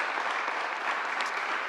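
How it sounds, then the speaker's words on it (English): Steady applause from a crowd at a public event in the Bronx, dense and continuous clapping throughout the short moment. "Let's give them all a strong round of applause."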